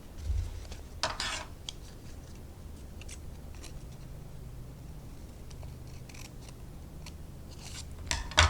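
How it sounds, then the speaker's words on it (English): Scissors cut through a sheet of origami paper while folding a crab: a few quick, crisp snips, close and quiet, separated by a long stretch of near silence. "at this point, you're actually going to need scissors."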